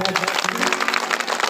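An audience clapping at a religious gathering, a brisk, dense patter of many hands at moderate volume, fairly close and steady through the moment.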